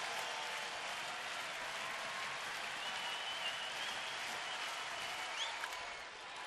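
A Friday night baseball stadium crowd at an Indians home game in Cleveland cheers and applauds in a sustained, dense wash of clapping and roar, steady throughout and easing slightly at the close.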